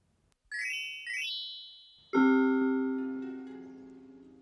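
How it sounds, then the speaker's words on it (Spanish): Game show chimes ring out: two quick rising bell tones, then a deeper, louder gong-like strike whose resonant tone rings on and slowly fades, with no talking over it. "cuando oigáis el gong, eso quiere decir que los 2 minutos empiezan a contabilizar"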